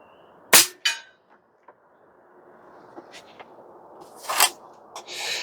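A Barra 250Z PCP airgun fires pellets at a 50-yard target, giving two sharp, close cracks early on, then a few lighter clicks and a louder report near the end, against quiet outdoor background noise.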